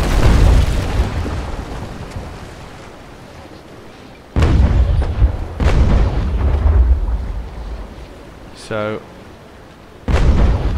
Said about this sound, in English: every single one of my cannons is shot, is falling on target